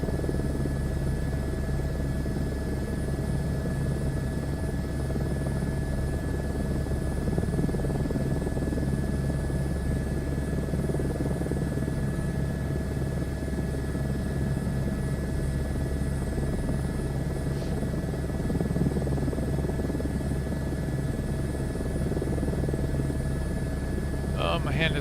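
Helicopter rotor and engine drone in Microsoft Flight Simulator 2024, a steady, even hum that holds throughout at constant level with a few faint clicks, no talk over it.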